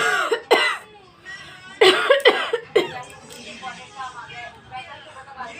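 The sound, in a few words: coughing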